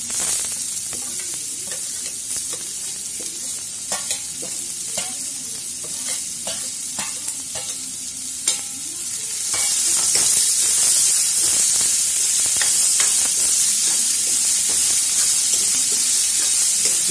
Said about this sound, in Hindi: प्याज को गोल्डन होने तक हमें भूनना है।